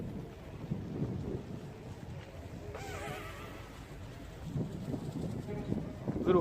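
Strong gusting wind roars steadily outdoors around a small Eachine QX90C drone in flight, loud broadband buffeting, with a voice speaking over it.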